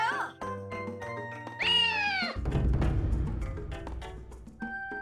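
A cat in the Naruto Ultimate Ninja Storm 2 video game gives a few drawn-out meows, the second one rising and long, followed by game sound effects and music, with a voice speaking in between.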